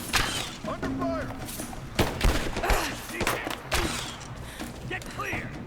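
Gunfire in the video game Rise of the Tomb Raider, scattered shots and thuds amid a chaotic firefight, with voices shouting over the action and irregular bursts of varying loudness.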